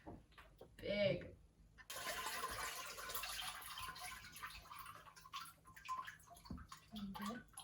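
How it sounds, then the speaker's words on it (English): Water streams and splashes out of a handmade papermaking mould tray in a continuous, close gush lasting several seconds, with a short burst of speech just before it starts. "Get all the excess water out"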